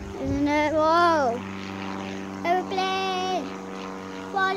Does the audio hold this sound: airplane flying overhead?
yes